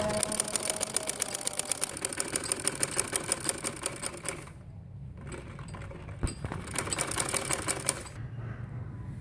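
A sewing machine stitches a Patiala salwar in rapid, clattering bursts, running loud and close for several seconds, pausing briefly, then starting again at the same quick, even pace.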